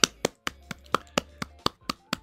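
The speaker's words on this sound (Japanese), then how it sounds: "拍手拍手でいいですか？" Hand clapping in an even, steady rhythm of about ten sharp claps, fairly close and moderately loud, with no voices over it.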